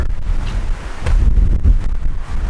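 Strong gusts of wind rumble and buffet the microphone on an open lakeside point along a river canoe route, a loud, continuous low roar that surges and eases with no voices.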